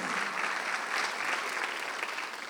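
A church congregation claps together during a Sunday worship service, a dense, steady wash of applause from many hands that stays loud throughout and tapers slightly at the end.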